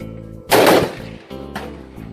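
A 1977 Bicentennial .30-30 rifle fires at a shooting range: one sharp, loud blast rings out, followed a second later by a fainter report, both over a steady low background hum.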